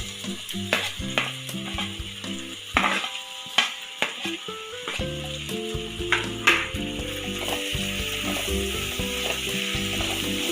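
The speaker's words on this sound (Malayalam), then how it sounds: "സവാള ഒരു ബ്രൗൺ നിറമാകുന്ന വരെ നമുക്ക് മൂപ്പിച്ചെടുക്കണം" Sliced onion fries and sizzles in a hot pan for a soya chunks roast, giving a steady bubbling hiss throughout, broken by occasional scraping stirs and clinks of a spatula against the pan.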